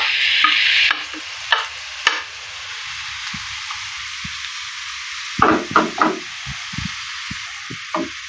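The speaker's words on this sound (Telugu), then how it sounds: "ఈ జుక్నీ ఏదైతే ఉందో అది వేయించుకోవాలన్నమాట." Zucchini paste frying in ghee for a sweet halva, heard as a hissing sizzle that fades after about a second, then quieter frying broken by clusters of stirring scrapes and knocks, close and with no voices.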